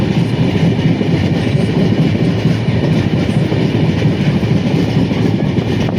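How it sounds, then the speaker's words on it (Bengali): A train rolls steadily through red-soil hill country, its deep rumble and rhythmic wheel clatter continuous and loud throughout, with no voices. "মানে ট্রেন যাচ্ছে পাহাড়"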